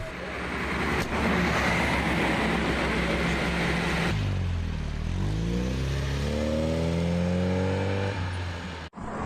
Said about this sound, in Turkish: Evet araç geliyor